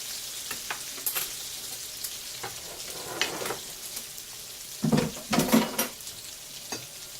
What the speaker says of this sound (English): Let that onion cook.